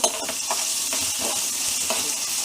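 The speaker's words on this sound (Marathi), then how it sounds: "मीठ टाकून मग पूर्ण एकदा हलवायचं, म्हणजे पटकन टोमॅटो आणि कांदा असं मऊ होतो." Tomato and onion with salt stirred in a pan for an amaranth-stem bhaji: a steady close sizzle with repeated scraping strokes of a spoon, heard alone without talk.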